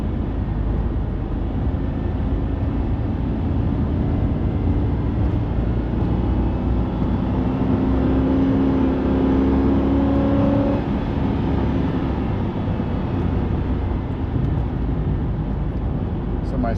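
A car accelerating on a track up to about 70 mph, a steady loud engine drone with rising tonal whine through the middle, continuous throughout.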